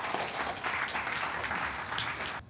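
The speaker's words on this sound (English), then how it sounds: "A huge round of applause for her." Audience at a panel discussion applauding a panelist, a soft, even patter of many hands clapping, fairly distant and steady, cutting off at the end.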